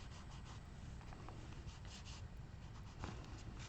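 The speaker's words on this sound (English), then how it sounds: "now I'm going to get some dark green in here and just kind of blend out all those cut" Dark green is colored and blended onto a small art card with soft, scratchy rubbing strokes that run continuously, faint and close, with no talking.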